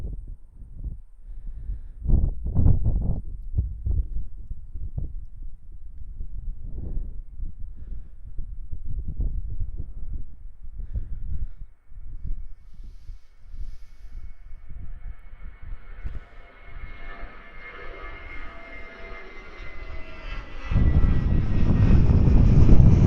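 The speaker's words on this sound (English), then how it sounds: "Let's listen to this awesome takeoff here." A passenger airplane takes off at Christchurch Airport: early low rumbling and handling noise give way to a rising jet roar that builds steadily and becomes loud and close near the end, with no talking.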